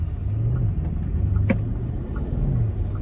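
A 2021 Bentley Continental GT Mulliner accelerates on the road in the Hamptons, its engine a steady, subdued low rumble with slight rises in pitch, heard from inside the quiet cabin.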